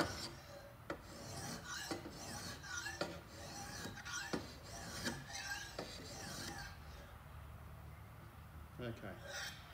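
Shear blades are sharpened on an EzeSharp blade sharpener with a wedge attachment, giving repeated close, rasping strokes in a steady rhythm of about a dozen passes, with someone talking softly between them.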